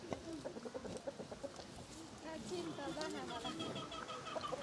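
Chickens clucking on a Saaremaa farm, several birds close by with busy, overlapping clucks and squawks, mixed with people talking nearby.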